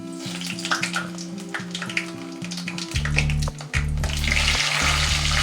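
Whole spices, fennel seeds, bay leaves, cinnamon, cloves and marathi moggu, fry in hot oil for mutton sukka, a steady close sizzle with crackles and occasional stirring, under soft background music.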